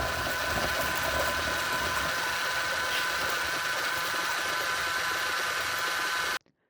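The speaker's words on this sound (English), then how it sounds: "the engine continues functioning for a bit over 20 seconds" A fully 3D printed, reusable pulsejet engine runs with a loud, steady, buzzing roar that holds unbroken for several seconds and then cuts off abruptly to silence near the end.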